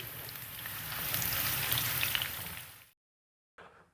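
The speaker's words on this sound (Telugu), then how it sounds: "ఇప్పుడు ఈ ఉల్లిపాయల్ని లేత బంగారు వర్ణం వచ్చేంత వరకు వేపుకుందాం" Chopped medium onion frying in hot oil, a steady broadband sizzle that swells and holds for under three seconds, then cuts to silence before a brief faint return.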